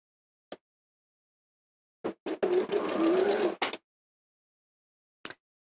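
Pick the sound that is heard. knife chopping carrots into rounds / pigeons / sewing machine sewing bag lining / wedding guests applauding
sewing machine sewing bag lining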